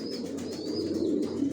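Johnson line long-distance racing pigeons coo in a loft, a close, continuous throaty murmur of overlapping coos with faint high chirps above it.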